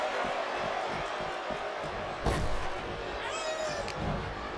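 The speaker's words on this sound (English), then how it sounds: "Listen to this crowd." Wrestling arena crowd from WWE 2K23 Universe Mode, a steady broad roar of many voices with a brief louder swell midway and some whistling near the end, filling the whole clip.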